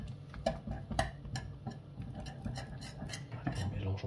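A spoon stirs a semolina flan mixture with candied fruit, giving soft scraping and a few light clinks against the bowl at an uneven pace, close and fairly quiet.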